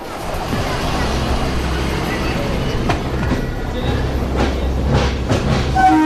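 Mumbai commuter train rumbling steadily along the tracks, a loud continuous roar with rhythmic clatter of wheels over rail joints, and a brief horn-like tone near the end.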